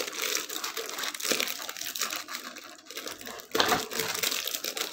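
Plastic wrapping crinkles and rustles continuously at close range while a Weierwei VEV-3288S handheld radio and its accessories are unboxed, with sharper crunches now and then and no speech.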